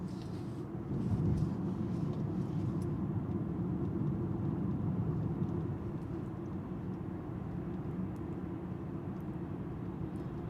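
Road traffic on Madina road rolls past as a continuous low rumble of tyres and engines, steady and moderately loud from inside a moving car, with no voices heard.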